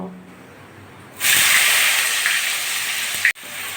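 Cut, washed potatoes drop into hot oil already tempered with spices and burst into a loud, sustained hiss of sizzling that starts suddenly after a quiet moment and breaks off briefly near the end.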